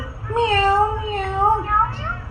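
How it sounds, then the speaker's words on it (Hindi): A cat meows close by in a home, giving a few drawn-out, wavering cries in quick succession. "पीछे देख, पीछे बिल्ली आ गई"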